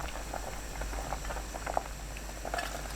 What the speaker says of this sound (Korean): 끓으면 약불로 낮추고 3분 더 끓입니다